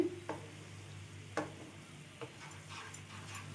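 A spoon stirs a semolina sweet mixture in sugar syrup in a pan, giving soft scraping knocks at irregular intervals over a steady low sizzle, close and quiet.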